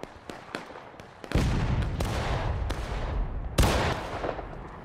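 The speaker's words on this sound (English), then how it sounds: "We just got volleyed coming out of the east southeast." Musket volleys in War of Rights, a Civil War battle game, with scattered distant shots followed by two loud, booming massed volleys at close range that echo and roll away.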